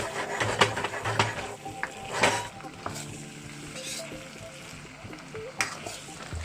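Spring onions stir-fried in a wok for la zi ji chicken, a crackling sizzle under repeated sharp clanks and scrapes of a utensil against the pan.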